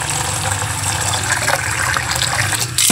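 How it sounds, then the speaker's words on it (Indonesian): Rose flowers are rinsed under a running tap, a continuous splashing gush of water that stays even and close from start to finish, with a brief louder surge at the very end. "Dicuci dulu ya bunganya ya."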